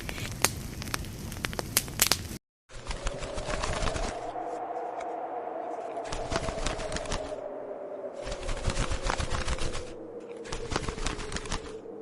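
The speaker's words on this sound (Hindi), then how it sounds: "उन लकड़ियों से वो एक छोटी सी आग जलाकर घोंसले को गर्म और आरामदायक बना लेती है।" A small wood fire crackling in a cartoon bird's nest, with irregular snapping pops over a soft continuous hiss after a brief gap, steady and fairly close throughout.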